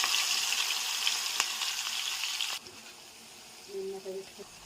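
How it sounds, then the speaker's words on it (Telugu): Chana dal, urad dal, ground green chillies, salt and turmeric frying in oil for chitranna, a loud close sizzle for over two seconds that cuts off abruptly, followed by quieter kitchen sounds and a faint stir. "మనం ఇలా ఫ్రై చేస్తాం."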